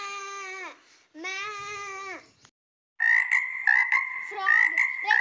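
Two long harmonic croaking calls from a frog, then a burst of overlapping warbling calls, loud and close with a short silence between, alone without talk; part of a set of animal sounds.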